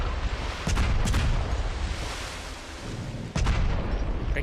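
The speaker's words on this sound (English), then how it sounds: "Low altitude, low speed bombing run." Explosions from a low-altitude, low-speed bombing run in a flight combat game come as several heavy booms with sharp cracks over a dense, continuous rumble of engine and battle noise.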